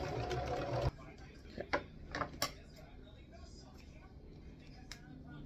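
A home sewing machine stitching a thrifted t-shirt, a short burst of rapid mechanical whirring at the start, then it stops and a few faint clicks and taps follow.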